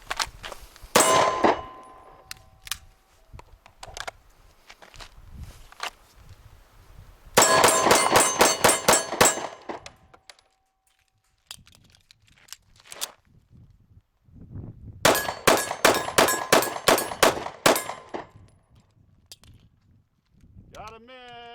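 Handgun shots fired through a red dot sight at steel targets, heard as two rapid strings of sharp bangs with ringing clangs, plus an earlier single burst, separated by quieter gaps with occasional voices.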